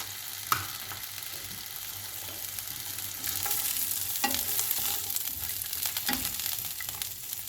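Almonds and other nuts sizzling in a little hot oil in a pan for a Kabuli Uzbek pulao, a steady close frying hiss with occasional stirring clinks and scrapes.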